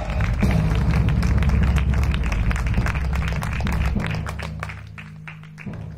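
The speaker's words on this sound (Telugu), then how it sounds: "వాళ్ళు కొట్టు చప్పట్లు గట్టిగా, ఇంకా గట్టిగా" A church congregation claps loudly in a steady rhythm of thumping beats over a low droning hum, and the clapping thins out toward the end.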